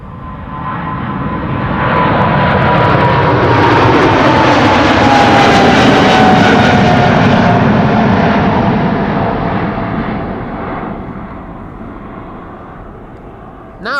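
A lightly loaded Qatar Airways Boeing 777 taking off at Amsterdam Schiphol, a loud jet roar swelling up over the first seconds, holding with a descending whine, then fading away toward the end.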